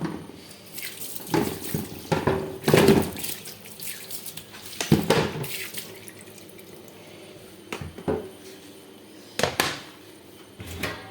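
Vegetables rinsed under a running kitchen tap, water splashing in bursts into the sink with handling clatter, close and fairly loud, no talk.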